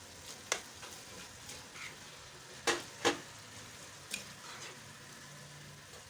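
A spice masala with kasuri methi fries gently in a pan, giving a faint, steady sizzle with a few soft scrapes and clicks of stirring scattered through it, and no talking.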